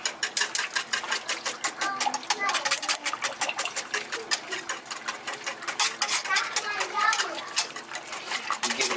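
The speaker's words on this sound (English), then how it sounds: "You give it a good whisking, and it's really going to break down that tomato paste." A whisk beating tomato paste into homemade sweet and spicy BBQ sauce, rapid rhythmic clicking strokes against the bowl repeating steadily and close up, with a voice talking over part of it.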